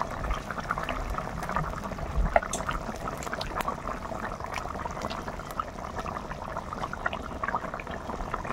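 Fish curry broth bubbles and simmers in a pot as fresh fish are added. A steady, low bubbling runs throughout, with a few small splashes and clinks.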